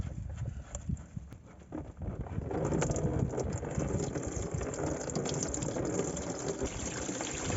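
Fuel drains out of an old English taxi's tank, a steady gurgling trickle and splash that grows fuller after a couple of seconds and continues close by.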